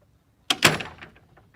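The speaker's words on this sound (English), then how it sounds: "is a spring hinge, so it will help shut the gate, so it won't just stay open." A garden gate on a spring hinge swings shut on its own, landing with one sharp close knock followed by a brief rattle that fades quickly.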